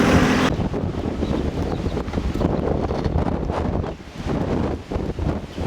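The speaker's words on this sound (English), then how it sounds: "It's been a very windy day" Strong wind buffets the microphone with a loud, continuous rushing roar that dips briefly and then gusts back.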